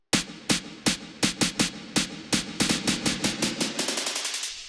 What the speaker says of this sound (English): I just added this snare roll to build up into the drop.